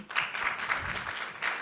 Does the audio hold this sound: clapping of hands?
yes